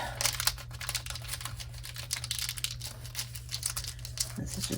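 A paper bag is folded up for a junk journal, giving a close, continuous crinkling and rustling of paper with sharper creases along the way and no talk.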